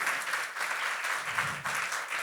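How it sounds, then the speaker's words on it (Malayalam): A church congregation at a charismatic prayer gathering claps hands in praise, a dense, continuous burst of applause heard alone for a couple of seconds. "കൈയടിച്ച് കർത്താവിനെ സ്തുതിക്കാം മക്കളെ"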